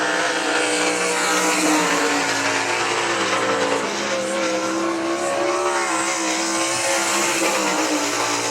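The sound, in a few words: sprint race car on the I-96 Speedway track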